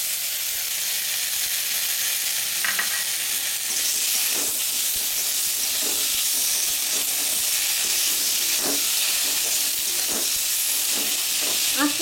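Dried mango leather going into a chutney with dates, cooking in a pan over low heat, giving a steady close frying sizzle and hiss with occasional faint stirring clicks throughout.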